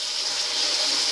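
Water poured into a cooking pan of masala while making cauliflower gobi curry, a close, steady gushing splash lasting about a second, with no talking.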